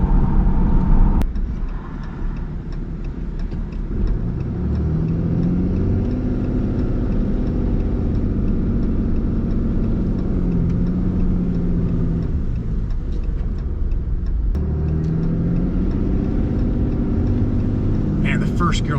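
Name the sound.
RAM 3500 truck engine driving while towing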